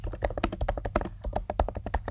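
Rapid keystrokes on a computer keyboard while typing an email address into a web form, a dense, uneven run of close, crisp clicks with no talking.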